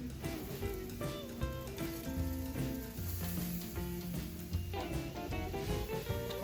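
A freshly flipped steak sizzling on a grill, a steady close hiss with light crackles throughout, with music playing under it and no talking.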